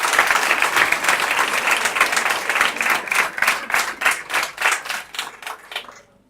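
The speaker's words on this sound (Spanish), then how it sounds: "Pues un aplauso para ella." Audience at a PechaKucha evening applauds a speaker, loud, close clapping that starts dense, breaks into a more distinct rhythmic patter, and dies away at the end.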